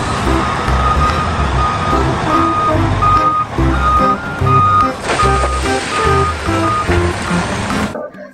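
A toy wheel loader gives loud, steady reversing beeps mixed with busy electronic toy tunes, close and continuous, with no talking.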